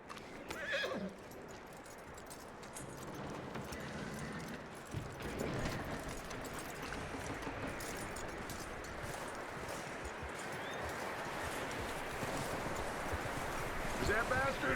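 A horse in the Red Dead Redemption 2 video game whinnies, then gives a steady stream of hoof clops and snorts over a busy ambient outdoor bed, with voices speaking at points.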